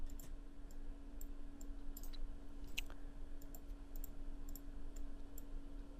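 Sparse, light mouse button clicks at a computer, scattered singly across a steady background hum, faint and close with no talk.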